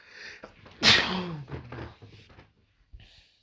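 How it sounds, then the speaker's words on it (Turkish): A single sharp sneeze bursts out close up, preceded by a short intake of breath, followed by quiet shuffling. "Bir hapşırayım geliyorum."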